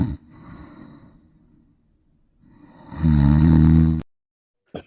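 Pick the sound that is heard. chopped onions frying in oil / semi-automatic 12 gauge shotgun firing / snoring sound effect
snoring sound effect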